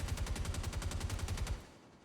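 NPCs in Star Citizen fire a rapid burst of automatic gunfire, about a dozen evenly spaced loud shots over a second and a half before it cuts off and a short tail dies away.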